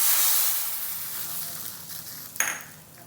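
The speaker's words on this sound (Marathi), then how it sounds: "हा तडका आपण त्यावरती घालू" A tadka of asafoetida and a dried red chilli in hot oil hisses, then bursts into a sudden loud sizzle as it is poured onto boiling rasam topped with coriander, fading quickly, close by and without talk.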